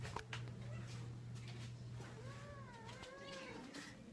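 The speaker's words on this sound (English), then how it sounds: "There's another big orange kitty." A big orange cat, one of several kittens with upper respiratory infections at a shelter, lets out a drawn-out, wavering meow. It sounds close and clear over a low steady hum and light background noise.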